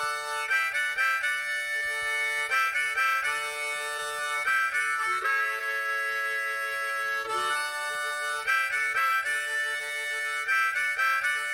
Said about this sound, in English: Harmonica.